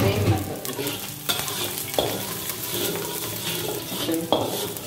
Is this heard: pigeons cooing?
no